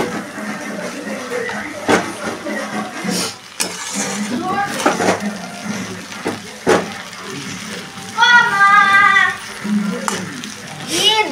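Food is stirred in a kadai with a metal spoon, giving sharp scraping clinks and knocks against the pan at irregular intervals, while a cat meows in high, wavering cries.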